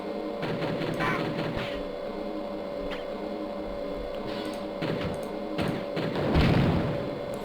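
Grenade blasts in the 1998 game Bald Trucker Vs. Alien Invasion: a few dull, booming thumps rise over a steady, noisy game background, with the heaviest one coming near the end.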